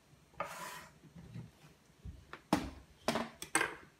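A knife cuts puffball mushrooms into chunks, several soft scraping slices with a few sharper clicks against the board, close and quiet with no talk.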